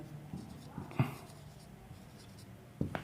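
Marker or chalk writing on a board during a classroom English grammar lesson, with a few short scratchy strokes and taps close by, under a faint room hum.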